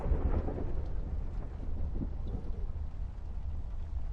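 A rumbling roll of thunder in an adventure game, starting with a heavy boom and then fading into a low, distant growl, alone with no voices.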